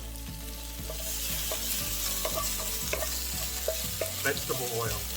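Green onion sizzles in oil on low heat, with a constant frying hiss and rhythmic scraping and tapping from stirring throughout.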